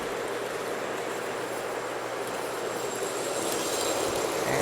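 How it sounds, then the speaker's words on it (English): A model passenger train runs along a home layout with a steady, continuous rolling rumble of wheels on track. The sound is fairly close, evenly loud and builds slightly toward the end, with no talking. "And here comes the passenger train."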